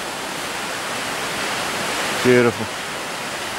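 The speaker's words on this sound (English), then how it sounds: "we're just coming up on the actual waterfall, Queen Mary Falls" Queen Mary Falls in Queensland, Australia, roars as a steady, broad rush of falling water heard from a walking track in a ravine, continuous throughout, with a brief spoken word near the end.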